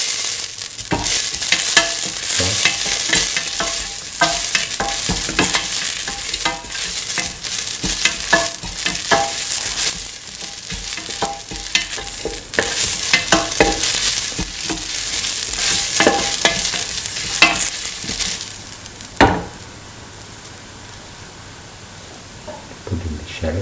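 Red chili fries and sizzles in hot oil while being stirred for a lentil and snake gourd dish, a loud steady crackle with scraping stirs, easing into quieter sizzling near the end.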